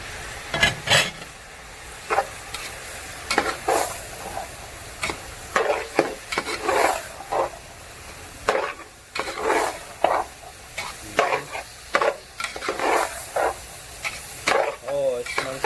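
Spices stirred into soybean curry frying in a pan, giving repeated scraping stirs over a steady sizzle, with bursts of spoon strokes spread through the clip and soft talk at times.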